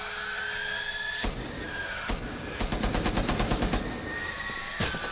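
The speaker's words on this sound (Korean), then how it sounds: "총소리를 내면 소리가 없어지긴 해." Gunfire in the tactical shooter Rainbow Six Siege: several sharp single shots, then a rapid burst of automatic fire, all fairly close, with a faint high electronic tone running underneath.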